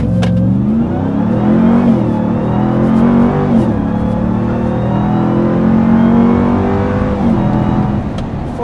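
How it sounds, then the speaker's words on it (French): A Dodge RAM TRX pickup truck engine revs hard and loud up close in sport mode, its pitch climbing and dropping back several times as it accelerates through the gears. "Oh là là là là, l'accélération elle est top."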